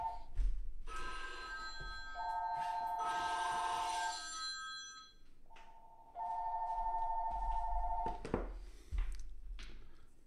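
A telephone rings near a desk in repeated electronic bursts: two long warbling rings separated by a short pause, with no talking.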